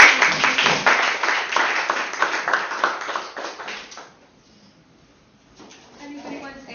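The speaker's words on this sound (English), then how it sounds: "let's give Allison a round of applause" An audience at an architecture lecture claps in a burst of applause that fades away after about four seconds, followed by quiet and then a voice speaking.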